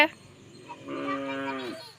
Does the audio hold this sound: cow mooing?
yes